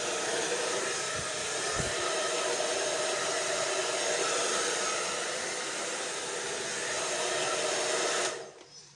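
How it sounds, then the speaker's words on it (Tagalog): A hair dryer runs steadily, blowing hot air to dry wet hair, a loud continuous whooshing hum that holds for about eight seconds before it switches off near the end. "At patutuyuin na natin ang ating basang buhok."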